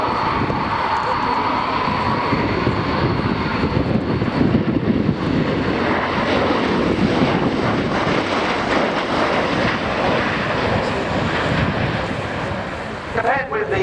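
CV-22 Osprey tiltrotor aircraft flying at the RIAT airshow, a steady loud roar of engines and rotors with wind buffeting, sustained throughout without a break.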